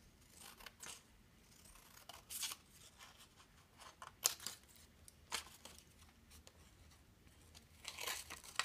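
Scissors snip and paper crinkles as shapes are cut out along their sides, producing quiet, irregular cuts and rustles with occasional sharper snips, close by and with no talking.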